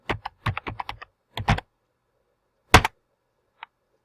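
Someone types a search word on a computer keyboard into Microsoft Word's find tool, a quick run of close, crisp key clicks, a short pause, a second burst, then a few isolated taps, with no talking.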